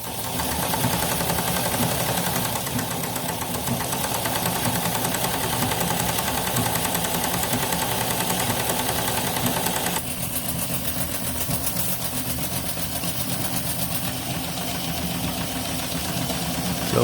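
A restored live steam Shay two-truck model locomotive in G gauge (1:22.5) running forward on its first steam test, with a steady rapid chuffing and mechanical clatter throughout, close and continuous, with no talk.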